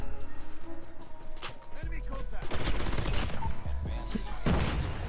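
Sustained automatic gunfire from a HYBRID M13 build in COD Mobile: rapid, dense shots rattle continuously over other battle noise, loud and close.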